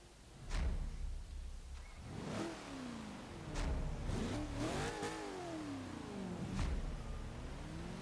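A low-revving, high-torque car in the Forza Horizon 3 racing game revs up and down several times, its engine pitch sweeping up and falling back, loud and close with no talking.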